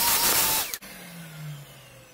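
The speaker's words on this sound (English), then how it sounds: "I'm going to switch to a different attachment on my vacuum, something just a little bit sharper to be able to get into those corners." Vacuum cleaner fitted with a narrower, sharper attachment cleaning the corners of a Dooney and Bourke Florentine leather handbag: a loud close roar that cuts off abruptly, then a fainter whine with a low tone slowly sliding downward.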